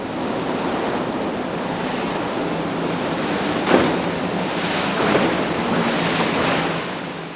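Rough tidal rapids churning under a bridge at Point Pleasant Canal during high tide, a steady loud roar of rushing water with wind buffeting the microphone and a couple of brief surges.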